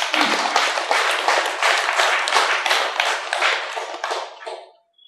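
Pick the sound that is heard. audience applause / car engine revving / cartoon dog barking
audience applause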